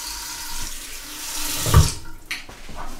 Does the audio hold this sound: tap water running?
yes